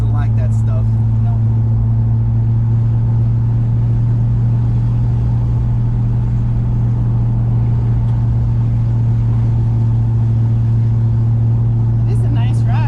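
A 1964 Dodge Polara 500 cruising, heard from inside as a steady low engine drone with a constant hum, even and unbroken throughout, with faint occasional knocks.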